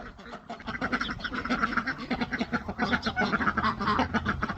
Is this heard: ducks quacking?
yes